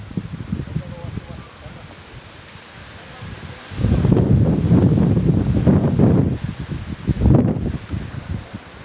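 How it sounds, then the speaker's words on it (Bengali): Wind gusts roar across the microphone in a village in Papua New Guinea, swelling loud midway through after a quieter, rustling start, with strong buffeting bursts near the end. "চারিদিকে বাতাস আর বাতাস।"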